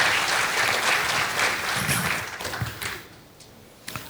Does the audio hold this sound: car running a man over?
no